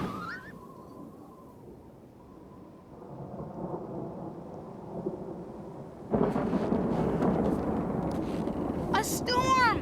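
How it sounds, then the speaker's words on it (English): Thunderstorm with steady rain and rumbling thunder in a snowy outdoor scene, the rumble growing louder and fuller partway through, with voices talking over it and a brief whistling animal-like sound near the end. "A storm!"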